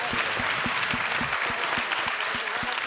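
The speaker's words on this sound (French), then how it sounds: "on peut à nouveau applaudir" A crowd applauds steadily at a business awards ceremony for a startup trophy, a dense wash of clapping with a regular low thumping beat underneath.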